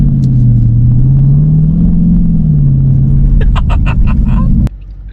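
A 2020 Dodge Challenger R/T with HEMI V8 accelerates hard, a loud, deep engine roar rising and falling in pitch for several seconds, some clicks over the top near the end before the noise drops off sharply.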